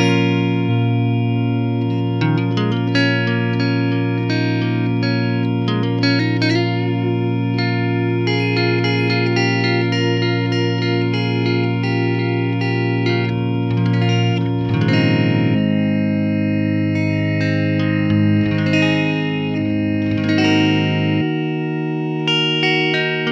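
Electro-Harmonix Superego Plus freeze pedal on its basic setting: a dense sustained guitar drone held steady for over twenty seconds, with new notes layered and shifting on top, loud and alone, cutting to a thinner held tone near the end.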